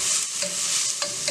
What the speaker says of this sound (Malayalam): ഞാനിവിടെ സവാള വഴറ്റിയപ്പോൾ കുറച്ച് ഉപ്പിട്ട് കൊടുക്കുന്നുണ്ട്.